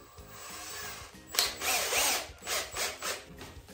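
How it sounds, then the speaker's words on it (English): A power drill pre-drills into cedar wood for a DIY bathtub tray, giving a few short whirring, grinding bursts close by, with brief pauses between them and no talking. "You should always pre-drill whenever you're screwing into wood, but definitely need to do that on cedar"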